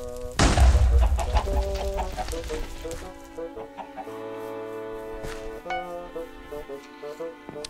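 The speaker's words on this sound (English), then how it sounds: "Oh, dang, I thought this chicken was a man." A chicken clucks in the Minecraft video game, with a loud burst near the start, then tonal game music and sound effects continuing over it at moderate volume.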